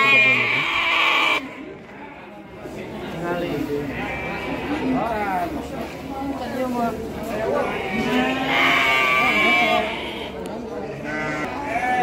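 Garut fighting rams bleat repeatedly at a busy livestock market in Bayongbong, Garut, their wavering calls rising over constant nearby talk and crowd noise.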